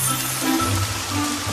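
Steady rain falls in a continuous dense patter with a faint tonal hum beneath, loud and close, with no voices.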